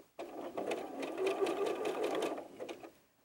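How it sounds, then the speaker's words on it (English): Sewing machine stitching along the top edge of elastic on doll bloomers, a steady fast mechanical whir with rhythmic needle clatter running for about three seconds, close and alone. "now we're going to sew a stitch right along this top edge of the elastic"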